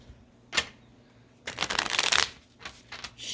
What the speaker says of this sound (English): All right, shuffle these cards.